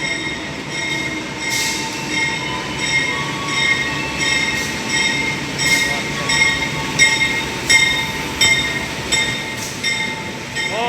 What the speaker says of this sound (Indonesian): Oh, ada kereta teman-teman.